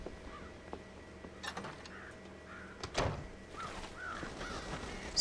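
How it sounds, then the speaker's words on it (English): Crows caw from a silo in Red Dead Redemption, several harsh calls scattered over a soft ambient bed, along with a few sharper knocks and clatters. "Scare the crows out of the silo."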